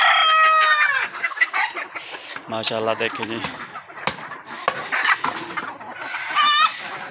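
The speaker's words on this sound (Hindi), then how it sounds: "हमारी सोनाली मुर्गी है जी" Sonali breed hens on a new poultry farm, clucking and squawking nearby with a rooster crowing, while someone talks over the birds throughout.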